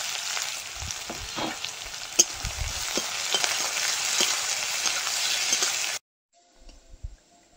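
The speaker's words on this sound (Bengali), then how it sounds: "পেঁয়াজ রসুনটা ভাজা হয়ে গেছে" Onion and garlic frying in oil in a wok, a dense steady sizzle with occasional stirring scrapes for about six seconds before cutting to near silence with faint clatter.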